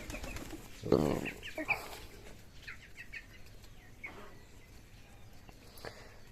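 A brief burst of wing flapping, then scattered soft bird chirps and coos against a quiet background.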